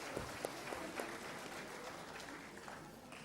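An audience in an auditorium at a cancer survivorship day celebration claps, a soft spread of distant applause with a few sharper individual claps early on.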